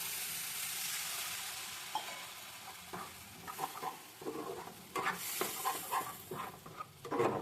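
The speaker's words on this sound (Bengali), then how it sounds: "মশলাটা একদম ভাজা ভাজা হয়ে এসেছে" A spice masala paste with a spoonful of sugar, a pinch of salt and a splash of water sizzles in a pan of oil for a bean curry, with a steady hiss broken by scraping stirs and small spattering pops.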